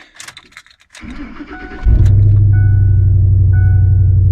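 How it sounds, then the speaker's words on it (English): A truck's starter whirs briefly on a cold start, then the big engine catches and settles into a loud, steady, deep rumble at idle. "Ready for this cold start?"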